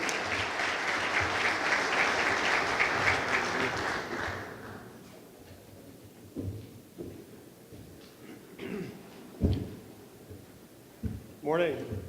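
Audience applause at the RETEC 2018 conference greets a guest speaker, a dense burst of clapping that lasts about four seconds and then cuts off, followed by a few scattered sounds and speech.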